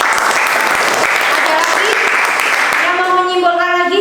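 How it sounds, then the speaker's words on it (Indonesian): A classroom audience of students gives a student loud, dense applause that fills most of the moment, then gives way to a voice speaking near the end. "Tepuk tangan dulu untuk Mbak Sofi."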